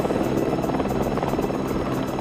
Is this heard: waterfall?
no